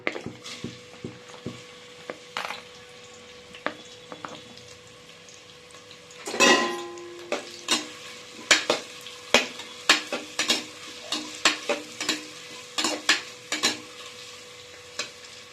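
Onions frying in hot oil for keerai biriyani, a soft sizzle broken by repeated sharp scrapes and knocks of a spoon stirring against the pan, a louder burst of sizzling midway, no talking.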